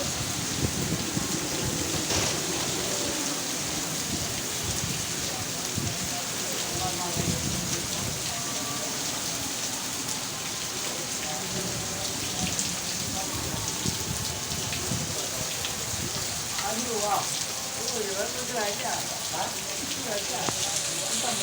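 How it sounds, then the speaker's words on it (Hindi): Heavy rain pours steadily in a dense, hissing roar during a storm, with faint voices now and then underneath. "बहुत तेज़ बारिश है।"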